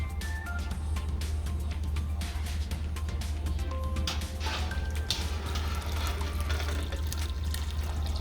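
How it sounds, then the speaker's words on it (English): Hot water is emptied out of a glass canning jar in a kitchen, a steady splashing pour over a low continuous hum, with a few faint clinks along the way. "Empty that hot water out of it."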